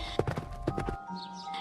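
Horse hooves clip-clop on hard ground, a quick run of several close, crisp knocks that stops abruptly, leaving a quiet background.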